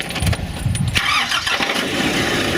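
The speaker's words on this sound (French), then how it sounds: "je monte dans mon poste pour démarrer" The engine of an aerial work platform cranks and catches, then settles into a steady mid-pitched running rumble, close and loud, with no talking.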